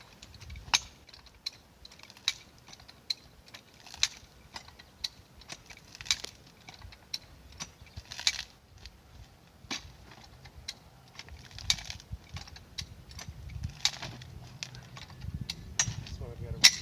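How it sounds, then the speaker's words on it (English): A farm high-lift jack works a metal fence post free, giving a series of sharp ratcheting clicks and metallic clacks in an uneven rhythm, close up and moderately quiet, with faint background noise between strokes. "Farm jack or high jack."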